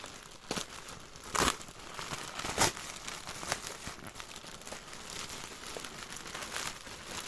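A plastic shipping bag, already torn a little in transit, is opened up close, giving irregular crinkling and rustling with a few sharp tearing rips.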